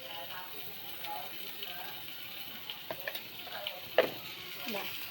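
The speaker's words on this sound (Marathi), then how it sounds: "कांदा चांगला लाल भाजून घ्यायचा." Green chili thecha with onion frying in a pan, a soft, faint sizzle with scattered spatula ticks and taps that grow more frequent toward the end, while a person talks quietly.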